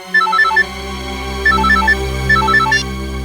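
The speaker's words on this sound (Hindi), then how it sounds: "उस फार्म हाउस के आसपास उस वक्त जितने भी फोन्स एक्टिव थे ना" A phone ringtone plays loud and alone in three repeated bursts of a bright melodic chime pattern over a steady low hum, each phrase a quick run of tones.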